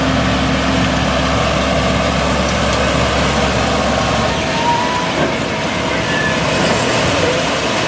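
A tractor engine runs steadily throughout while pulling a round baler making hay, a loud low rumble with constant drone and no breaks.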